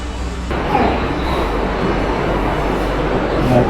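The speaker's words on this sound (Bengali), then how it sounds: "ট্রেন এসছে" A passenger train arriving at Rampurhat station, a steady low rumble and rolling rail noise that swells slightly as it pulls in, with no voices.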